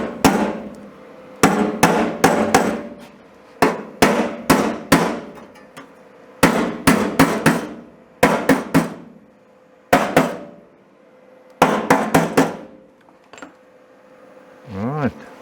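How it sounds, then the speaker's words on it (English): Repeated sharp metallic hammer blows on a custom Ford F100 truck bed ring out in quick bursts of two to four strikes, separated by short pauses, loud and close. "Need to hammer it a little bit here."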